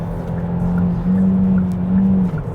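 A Hyundai The New Tucson with its 1.6 turbo gasoline engine accelerates, a steady engine drone rising slightly in pitch over a few seconds, heard from close by with no talk.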